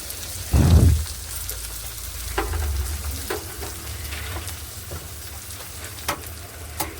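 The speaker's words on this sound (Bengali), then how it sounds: "আলুটা ভাজার ওপরে এবারে দিয়ে দেবো ডিম, দুটো ডিম ভেঙে দিয়ে দেবো।" Two eggs are cracked over fried potatoes in a pan. A soft thump comes first, followed by a continuous crackling sizzle with scattered pops.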